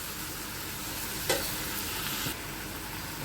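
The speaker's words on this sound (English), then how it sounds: "Now I am going to add the boiled mackerel to this." A spoon stirs a boiled mackerel (bangda) fish cutlet mixture in a bowl, a soft steady scraping and mushy churning heard up close and alone, with one brief knock partway through.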